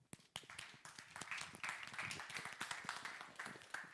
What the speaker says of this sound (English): perhaps a little applause for Rok